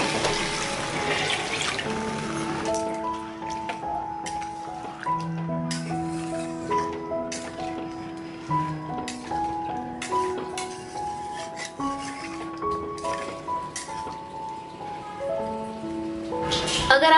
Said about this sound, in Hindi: ये मिक्सर जार में ही मैंने गर्म पानी डाल दिया है और ये गर्म पानी मैं इसमें ऐड करूंगी।